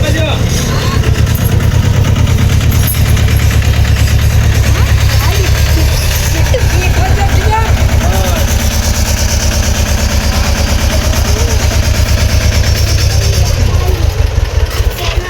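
A tractor engine idles loudly and steadily up close, a deep, even rumble that runs the whole time with a faint voice or two mixed in.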